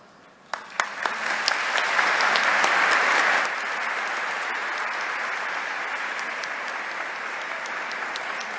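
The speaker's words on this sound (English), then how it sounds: "give Wyatt, Evan, and Carabella another round of applause for their great poems" Audience applause in an auditorium at an education address, honoring students after they read their poems; dense clapping swells loudly for a few seconds, then settles into steady, slightly softer applause that carries on to the end.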